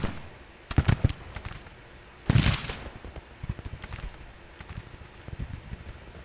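Civil War artillery in the game Grand Tactician: The Civil War: two heavy cannon booms stand out, followed by a scatter of fainter, distant pops and thuds over a low battlefield rumble.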